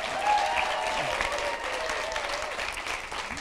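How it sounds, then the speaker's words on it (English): Audience applause at a global health panel event, a full and steady round of clapping from a crowd that holds strong throughout, with faint voices and a few cheers mixed in. "So big round of applause for Anna"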